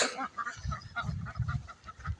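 Pekin ducks at a pond give a short run of nasal, honking quacks, several calls in quick succession, fairly close over a quiet outdoor background.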